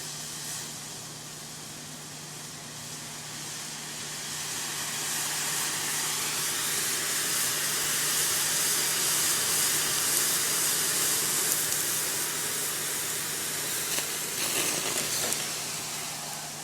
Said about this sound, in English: We're going to let it boil and let it just flow over the top for a couple of seconds